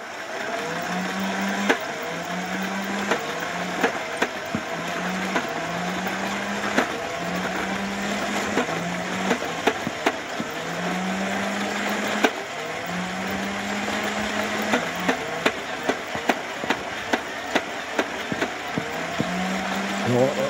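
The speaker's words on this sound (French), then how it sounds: "On entend que le blaster d'origine il peine à tirer des rafales." An upgraded Nerf Titan blaster fires repeated full-auto bursts, each a rising motor whine of a second or so, with sharp clicks and thumps between them over a steady background hum.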